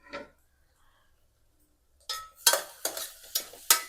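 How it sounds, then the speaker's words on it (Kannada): A spoon stirs vegetable pulao with tomato in a pot, several scraping, clinking strokes in quick succession after a short, nearly silent pause, close by and crisp. "ಕ್ಲೀನಾಗಿ ಮಿಕ್ಸ್ ಮಾಡ್ಕೊತೀನಿ."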